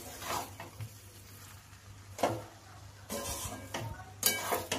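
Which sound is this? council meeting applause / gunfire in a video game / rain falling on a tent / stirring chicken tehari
stirring chicken tehari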